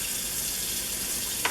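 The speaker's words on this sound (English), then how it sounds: "all I do is just run water into the top" Steady rush of tap water pouring into the top of a Presto PopLite popcorn popper modified for coffee roasting, continuous broadband splashing with a brief clink near the end.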